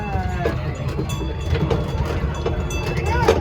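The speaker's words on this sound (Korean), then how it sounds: "맞은편에 기차 오네 오늘" A train runs past on the opposite track, heard from inside another moving train: a continuous rumbling clatter with rhythmic knocks, plus a few faint voices.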